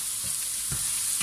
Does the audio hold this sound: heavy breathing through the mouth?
no